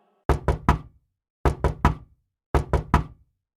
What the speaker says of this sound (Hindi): उसे गेट बजाने की आवाज आती है